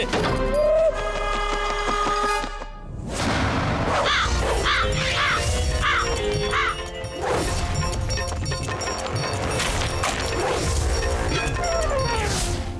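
A cartoon crow caws in a Guru Aur Bhole animated episode, its harsh calls repeating over loud cartoon music with crashes and whacks throughout.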